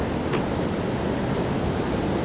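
Water pours over a weir on the River Tone near Taunton, a steady, loud, broadband rush with no pauses and no talk.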